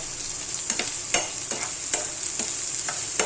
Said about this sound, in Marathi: पहिला कांदा फ्राय व्हायला पाहिजे.